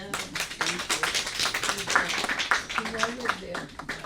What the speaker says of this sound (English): I want a big clap for her.